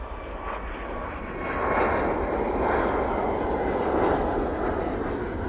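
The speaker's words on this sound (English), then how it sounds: "Right there, 737 MAX 8 off to Alicante now." A Boeing 737 MAX 8 jet takes off from Manchester Airport, its engine roar a loud, steady broadband rumble that swells slightly midway and holds, with no talk over it.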